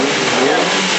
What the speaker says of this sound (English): That wonderful TVR Vixen S2, 1969.